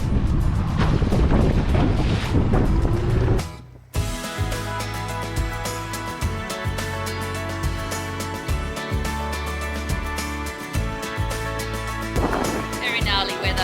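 Strong wind on 80 Mile Beach at high tide in gnarly, salt-spray weather roars and buffets loudly for about four seconds, then cuts off abruptly as steady music takes over.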